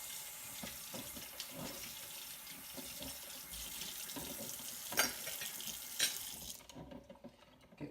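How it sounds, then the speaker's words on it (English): A funnel rinsed under a running tap during black-and-white film developing, a steady close rush of water with faint clinks near the end before the flow cuts off. "While I'm doing that, I'm going to rinse off my funnel."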